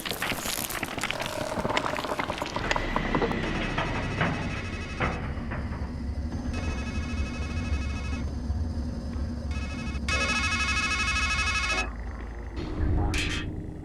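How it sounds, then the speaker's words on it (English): A telephone rings repeatedly in the horror video game Strangeland, its electronic trill bursting in evenly spaced rings over a dense, droning ambient score, with a brief voice near the end. "Then a phone rings, and the voice on the other end says,"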